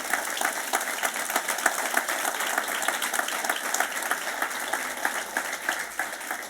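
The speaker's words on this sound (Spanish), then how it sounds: "¿Alguien puede darle un fuerte aplauso a Jesús?" A church congregation claps loudly and continuously in a dense, steady wash of hand claps that fills the hall for several seconds.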